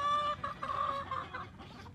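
An inahin, a proven 3 to 4 year old hen in molt, clucks in short repeated bursts, close and fairly loud, with no voices over it.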